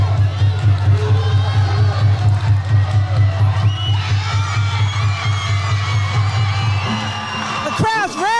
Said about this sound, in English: The crowd's roaring behind him.